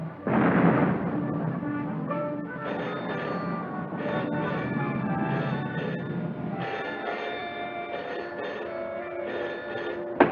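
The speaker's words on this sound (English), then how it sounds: "Listen, guns again." Distant artillery guns fire in a 1936 film scene, heard as a rumbling boom that settles into a long resonant, ringing wash with tonal hum, ending in a small sharp knock.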